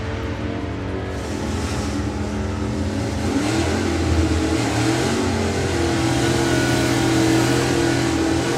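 A drag racing car launches hard straight into a wheelie at a national finals meet, its engine roaring loud and steady as the revs climb, with no talk over it.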